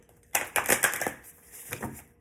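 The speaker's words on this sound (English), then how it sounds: "shuffle real quick" Quick riffling flutter of tarot cards being shuffled close up, a burst of crisp rapid clicks that trails off after about two seconds.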